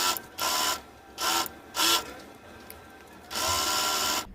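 Sewing machine stitching salwar fabric in four short whirring bursts, with brief pauses between them and a longer final run, close and clear with no talk.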